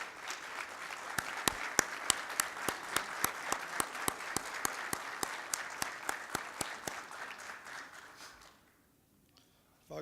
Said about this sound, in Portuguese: Gostaria uma salva de palmas, Adriano